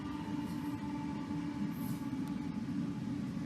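A slow-moving Norfolk Southern trash train pulled by three locomotives rumbles past in a steady, loud drone of rolling wheels and engine noise, with a faint high squeal near the middle.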